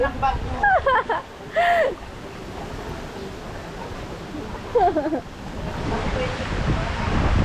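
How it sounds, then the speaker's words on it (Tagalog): Strong wind roars and buffets the microphone in a constant rushing noise during a flood, while voices call out briefly over it. "mahangin na po"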